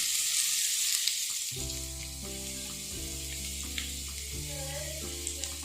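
Sliced onions sizzle loudly on high flame for a dragon chicken dish, a steady close frying hiss throughout, with a layered tonal hum of music or a nearby appliance underneath.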